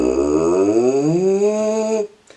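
A tuba player buzzes a lip siren warm-up, one sustained brassy tone gliding upward in pitch, then holding steady before cutting off abruptly, loud and close.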